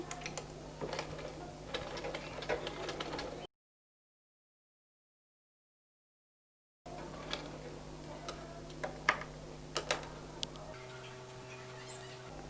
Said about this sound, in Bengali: পাকা করে যে কাটা আছে সে পর্যন্ত সেলাইটা হবে আর এটা ডাবল সেলাই করতে হয়